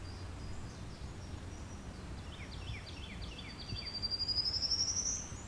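A songbird, apparently a Carolina wren, sings a faint series of quick descending notes over steady background hiss, followed by a clearer, rising trilled phrase near the end.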